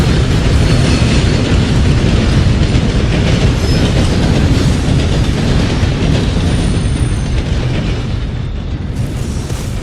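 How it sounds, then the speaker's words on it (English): A video game train rumbles past close by with heavy, steady clattering and a deep roar that eases slightly toward the end. "I love the trains in this game"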